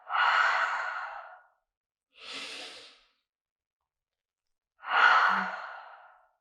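Three slow breaths during a yoga session, two long airy exhales through the mouth separated by a shorter intake, each soft and close, with pauses of silence between.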